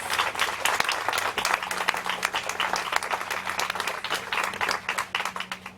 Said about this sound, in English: the people of Plymouth deserve the clapping